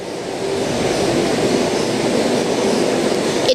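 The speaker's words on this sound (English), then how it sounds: "And now H39 is departing platform 1, empty cars." Empty-car Sydney train pulling out of the Bondi Junction platform, a steady loud rumbling roar of wheels and motors that holds even throughout, ending with a brief clunk.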